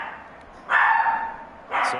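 A pet dog barks nearby during a football game broadcast in two sharp, loud bursts separated by a short pause. The first bark is longer and the second is briefer, with no talk over them.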